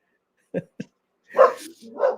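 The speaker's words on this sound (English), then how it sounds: "She barks at you." A pet dog gives two short, sharp barks, then a longer bark or yelp. It is close and moderately loud in a quiet room, and a person's voice may be mixed in near the end.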